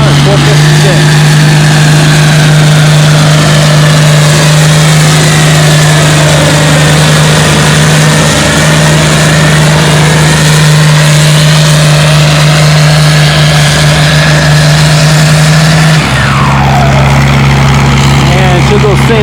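Farmall 456 tractor pulling a sled in a tractor pull class, its engine droning steadily at a loud, sustained pitch under an announcer's voice, then shifting lower near the end as the load bogs it down.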